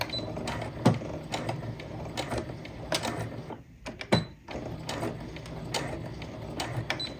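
An apron seam being backstitched on a sewing machine: rapid mechanical stitching bursts with short pauses between runs, close and fairly loud, no speech.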